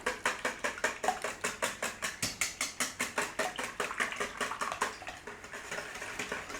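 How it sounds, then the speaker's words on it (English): Evaporated milk custard whisked in a bowl, a fast regular clicking and tapping of the whisk against the sides, steady for about five seconds before loosening into softer strokes. "whisk it up"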